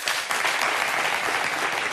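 An audience claps in steady, dense applause for the whole moment, with no voices over it.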